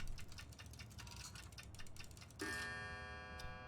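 Clocks in the game Control tick quickly and evenly, faint and close, and then a bright bell strikes and rings on with a long, shimmering decay.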